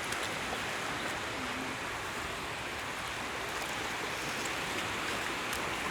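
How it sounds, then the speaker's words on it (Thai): Steady wash of sea waves on a beach during a morning seaside walk, a continuous, even rush of surf with no voices. "วันนี้เรามาเดินเล่นของทะเลนะครับ"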